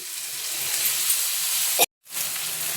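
A paste of coconut, tomato and cashew goes into a pan of frying onions for a dhaba-style drumstick curry. A steady, bright sizzle hisses throughout, cuts out abruptly for a moment, then resumes.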